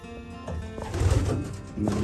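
A racing pigeon hen in a loft gives low, rolling coos, fairly close and repeated over a short stretch with some background noise.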